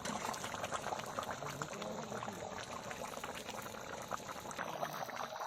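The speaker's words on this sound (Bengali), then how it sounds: "মশলা রাখা পাত্রটাও ধুয়ে দেবো।" Water rinsed from a spice container into a cooking pot of country chicken curry with papaya and stone-ground spices, a continuous bubbling pour over the simmering pot, close and fairly loud.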